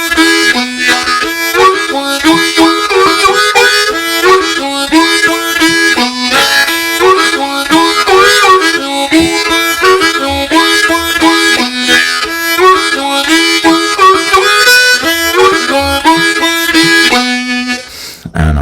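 A harmonica played in an old-time style with hand popping, a continuous bright reedy melody with rhythmic pulsing chords throughout, loud and close.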